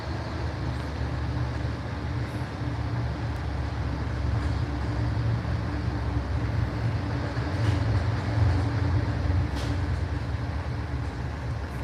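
An MBTA commuter train rumbles along steadily after leaving a tunnel, heard from inside as a continuous low droning roar with faint rail clacks and squeaks layered over it.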